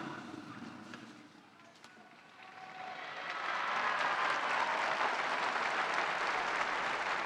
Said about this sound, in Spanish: Y los fieles presentes en la plaza de San Pedro acogen la bendición del Santo Padre con un aplauso